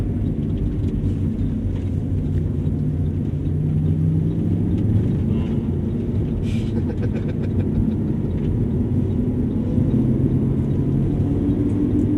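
A Lamborghini Aventador on a race track, its engine a continuous low rumbling drone from inside the car with shifting pitch as it downshifts through tight turns, loud and unbroken.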